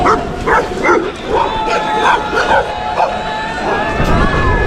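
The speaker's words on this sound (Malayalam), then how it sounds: "പട്ടി ബഹളല്ലോ" Several dogs bark and yip in repeated bursts near a vintage church in hilly Shimla, a fairly loud commotion with voices talking over it.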